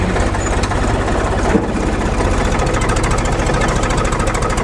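A farm tractor engine runs steadily with a rapid, even low chugging pulse on an off-grid homestead during wind turbine installation, loud and close throughout with no talking.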